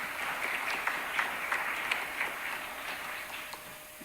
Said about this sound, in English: graduates, give yourself a big round of applause